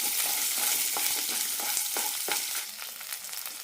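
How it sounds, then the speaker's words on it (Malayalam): Six pieces of coconut sautéing in a pan for a horse gram curry, a close steady sizzle broken by several sharp spatula scrapes and stirs, no voices. "ആറ് കഷ്ണം തേങ്ങയാണ് എടുത്തിരിക്കുന്നത് നന്നായി വഴറ്റാം"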